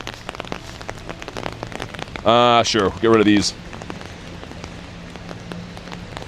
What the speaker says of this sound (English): Raindrop ASMR for me. Dude, there's like little hail pellets still.